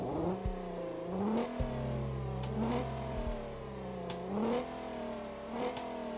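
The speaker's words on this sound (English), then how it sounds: "Okay, the engine does start." A damaged car in BeamNG cranks and starts, its engine surging through several rev swells that rise and fall, loud and close throughout.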